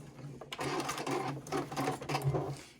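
Sewing machine running a seam on a small fabric pouch, a steady close whirring hum with rapid needle chatter that starts after a brief pause and continues throughout, slight speed changes.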